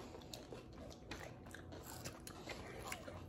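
Crunchy Dubai pistachio chocolate being bitten and chewed up close, making quiet crackly crunches and soft mouth sounds over a low background hum.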